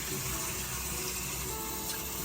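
Hot water runs steadily from a tap onto a washcloth at a sink, a soft continuous splashing rush heard close and alone with no talk.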